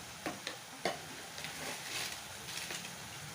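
Chicken frying in mustard oil is stirred, a low hiss of sizzling broken by a few light scraping and clinking strokes of a utensil against the pan.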